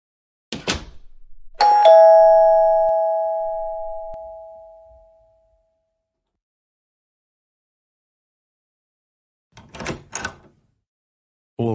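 A house front doorbell gives a single loud two-tone chime that rings out and fades over several seconds, followed by a long silence and a short burst of later sounds.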